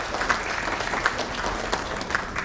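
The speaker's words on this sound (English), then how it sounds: "Can we please welcome her once again with a huge round of applause?" Audience at a panel session gives a sustained round of applause, many hands clapping in a dense, even wash, moderately loud and without speech.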